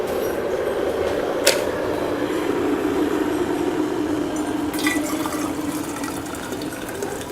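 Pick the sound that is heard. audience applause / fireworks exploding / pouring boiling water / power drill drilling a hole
pouring boiling water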